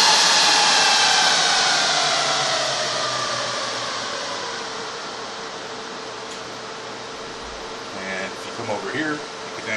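Cooling fans in an HP ProLiant DL380 G5 server roar at high speed during the power-on self-test after being unplugged, a loud, steady whine that gradually eases down, with a few faint clicks near the end.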